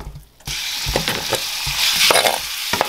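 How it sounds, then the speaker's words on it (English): Chicken sizzles loudly in a hot frying pan, with a steady crackling hiss and occasional scraping stirs. "All right, she's sizzling."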